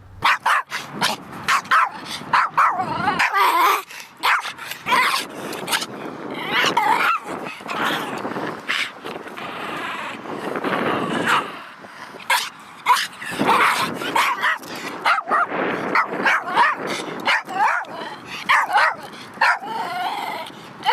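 An aggressive small rescue dog known as a biter barks and yips in repeated sharp bursts, loud and close, mixed with whimpers and scuffling, with people talking between the outbursts.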